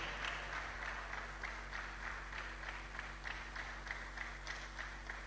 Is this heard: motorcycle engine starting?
no